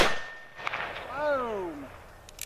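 A .45 Colt black powder revolver goes off in one sharp blast that fades away quickly. A short falling voiced tone follows.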